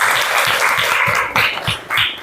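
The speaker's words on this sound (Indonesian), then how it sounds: "Beri tepuk tangan untuk 3 teratas." Students in a classroom clap for the top three finishers in a dance lesson, a brief burst of applause that surges and fades twice.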